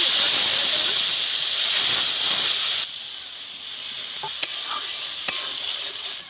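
Water hits a frying paste of turmeric, ginger and cumin, setting off a loud, bright hissing sizzle that drops abruptly to a softer bubbling fry with a couple of light clicks.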